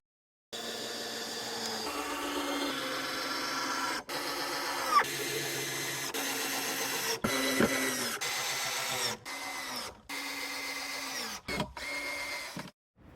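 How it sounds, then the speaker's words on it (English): A power drill drives screws into wooden pieces of a ski tube frame, two screws per piece top and bottom, in several sustained whirring bursts separated by brief pauses, loud and close with no talking. "you're going to screw them in from the top like this"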